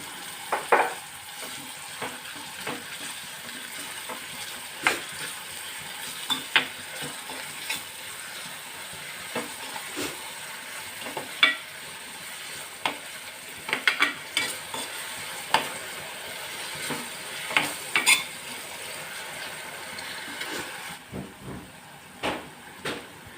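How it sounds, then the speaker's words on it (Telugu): Chopped onions with slit green chillies, turmeric and salt fry steadily in a pan, a continuous close sizzle broken by frequent scraping stirs and light clinks, with no one talking. "ఉల్లిపాయని బాగా వేగనిద్దాం"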